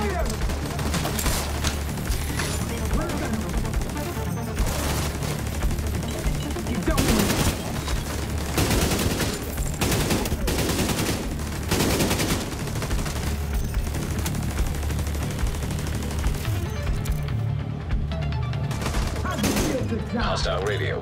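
A firefight in the video game Tom Clancy's The Division 2: sustained volleys of gunfire crack in rapid clusters, with occasional heavier bursts and short pauses, loud and close, mixed with other game sounds.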